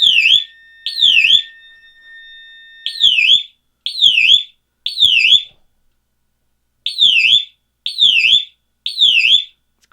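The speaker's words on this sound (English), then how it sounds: "right now I've currently got it, again, set to warble, and the panel is set to temporal" Fire alarm on an MS5UD3 panel sounding a shrill warble tone in a temporal pattern: groups of three high sweeping bursts separated by pauses, loud and close with no talking.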